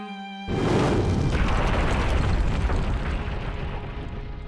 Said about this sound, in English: My head was being knocked around by some deafening explosion.